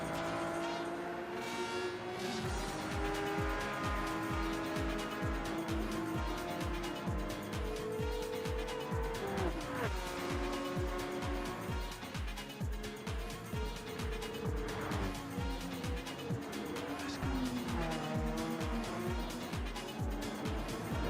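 Race cars corner in a team-cup sim racing game with a continuous engine drone and a rhythmic pulsing buzz, and a commentator talks over the engine noise.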